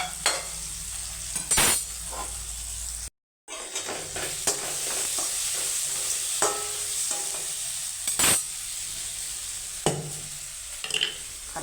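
Okra hits a hot pan of fried tomato and onion and sizzles steadily while a spatula scrapes and stirs in repeated strokes with occasional metallic clinks. The sound is close and loud, with one brief dropout partway through and no talk.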